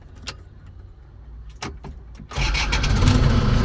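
A motor vehicle engine cranks and starts after some quiet clicks and handling noises, then settles into a loud, steady idle that fills the second half of the clip.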